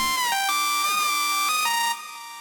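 Saw-wave synth layer from a happy hardcore remix, a buzzy bright lead sustaining notes with quick pitch glides and steps, loud and alone, then dropping slightly in level near the end.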